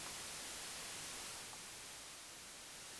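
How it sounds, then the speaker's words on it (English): Steady wash of white noise from an Elektron Model:Cycles synth fed into reverb, a broad even hiss that holds at constant loudness and dips slightly near the middle, with no voices. "now I have that white noise and I can just take it out or bring it in again"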